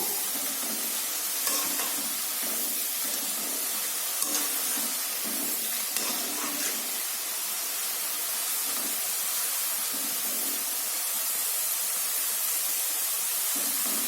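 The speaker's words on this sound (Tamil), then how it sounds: "அப்பதான் சிப்ஸ் வந்து ஒரே மாதிரி நல்லா மொறு மொறுன்னு பொரிஞ்சு வரும்" Potato finger chips fry in oil over a low flame, a steady close hiss of fine crackles and bubbling that carries on evenly throughout.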